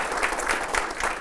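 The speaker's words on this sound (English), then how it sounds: "please give a big round of applause to Jessie Staffaker" Audience applause at a business community event, a steady wash of clapping at moderate level for about a second, with no talk over it.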